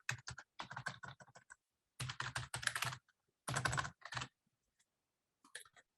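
Quick bursts of typing on a computer keyboard, with rapid clustered key clicks in several separate runs. Short pauses fall between the runs, and the keys sound close and crisp against near silence, with no one talking.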